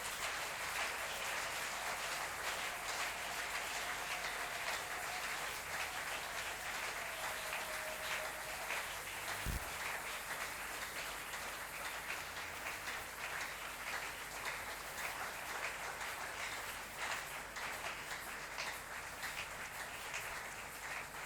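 A church congregation applauds together, with dense, steady clapping that holds at an even level for about twenty seconds and has no voices over it.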